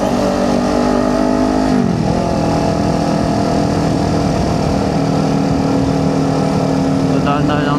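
A 2023 Kawasaki Ninja 400 fitted with a new aftermarket exhaust idles loud and close, then blips its throttle with a quick rising and falling rev before settling back to a steady, throaty idle.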